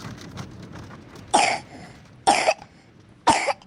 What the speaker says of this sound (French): Le deuxième jour, Carrie a commencé à tousser.